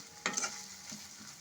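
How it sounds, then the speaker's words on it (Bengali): Katla fish paste frying in a pan over medium heat, a quiet, close sizzle with a quick stirring scrape near the start, then a soft steady crackle. "আঁচটাকে মিডিয়ামে দিয়ে আমি এটাকে একটু ভাজা ভাজা করে নেব।"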